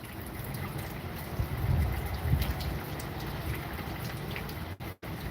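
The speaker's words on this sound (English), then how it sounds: "The beautiful rain, man." Steady rain falls in 30 degree weather as a dense, even hiss of drops on outdoor surfaces, moderately loud and continuous with a few heavier patter bursts and no talk.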